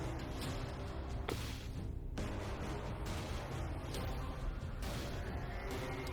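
During a tabletop fantasy role-playing campaign, a booming explosion sound effect roars as a sustained, noisy rumble with crackling, sharp bursts layered through it, loud and unbroken for several seconds.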